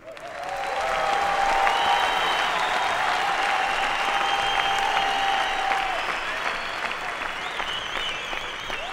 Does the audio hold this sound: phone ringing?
no